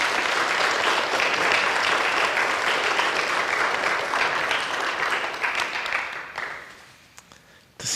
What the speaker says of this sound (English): I wonder if we can all give Angela another round of applause